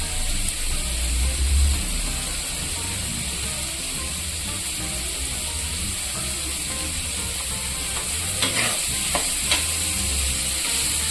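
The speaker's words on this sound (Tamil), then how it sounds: "இது கொஞ்சம் நல்லா வதங்கட்டும்." Onions for a chicken samosa filling sauté in a pan with a steady, close hiss and crackle of frying, and a few utensil scrapes toward the end. No one speaks.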